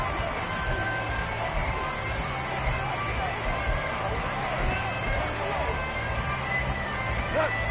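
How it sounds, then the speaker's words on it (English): A stadium crowd at an American football game keeps up a steady, dense roar throughout, with a broad wash of voices and cheering and no break. "this crowd is making an impact right now"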